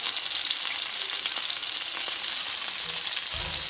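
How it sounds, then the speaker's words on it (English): Sliced vegetables and garlic cloves sauté in a hot pan, giving a steady, close hiss and crackle of sizzling oil that runs unbroken throughout, with a faint low knock near the end. "saute them in this pan with some garlic cloves"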